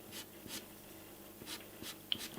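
A pearl-grey pastel pencil strokes across dark paper, giving several faint, dry scratching swipes in an irregular rhythm in a quiet room.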